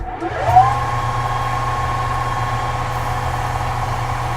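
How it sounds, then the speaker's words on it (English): Lathe spinning at 1620 RPM while 600 grit sandpaper polishes brass, a steady close hum with a whining tone that rises briefly at the start and then holds. "we're just going to take some 600 grit sandpaper to this, same speed, 1620 RPM."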